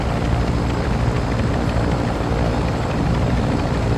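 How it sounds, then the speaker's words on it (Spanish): A helicopter's rotor in the video game Warzone 2.0 chops steadily and loudly throughout, a constant thrumming drone with no voices. "aquí hay otro helicóptero"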